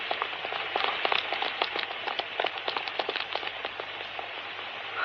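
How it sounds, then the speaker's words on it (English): Heavy rain pours as a sound effect in a live radio drama, a dense steady hiss of drops broken by sharper close patters and spatters, with no voices heard. "Oh, Lord, it's pouring again."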